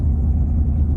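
Ford F150 truck with a 5.0 engine driving, a steady deep low rumble filling the cabin, continuous and fairly loud with no other sounds.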